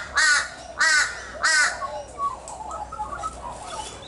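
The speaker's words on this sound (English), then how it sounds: "That's one of the magpies." An Australian magpie on a busy morning in Nerang gives three loud, harsh calls close by, then trails into softer, scattered warbling notes over quiet background.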